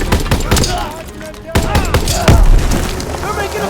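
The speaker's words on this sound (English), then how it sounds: "Grenade out!" A grenade blast and bursts of gunfire in the Call of Duty video game, loud and close, with repeated sharp shots and booms. A shouted voice is also heard.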